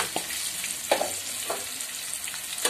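Potato pieces sprinkled with a pinch of turmeric fry in a wok with a constant close sizzle, broken by three or four spatula scrapes and tosses, no voices.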